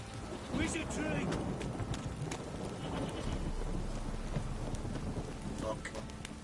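Steady rain in the video game The Witcher 3: Wild Hunt hisses throughout, with a low rumble beneath and a voice speaking over it.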